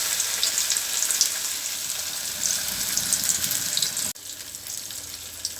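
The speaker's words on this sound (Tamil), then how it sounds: "கொஞ்சமாக எண்ணெய் ஊற்றி நம்ம நல்லா பொரிச்சு எடுத்துக்கலாம்." Fish frying in a small amount of oil in a pan, a continuous bright close-up sizzle that drops suddenly in loudness partway through and then carries on more quietly.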